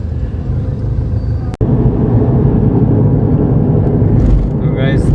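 Busy city road traffic in Rameshwaram, with a steady wash of car and bus engines rolling past close by, broken by one brief sharp knock, then continuing as a constant loud rumble.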